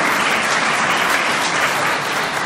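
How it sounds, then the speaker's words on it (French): Church audience giving thick, continuous applause during a sermon on the bread and wine, many hands clapping together at a steady, fairly loud level. "On applaudit quand même, hein?"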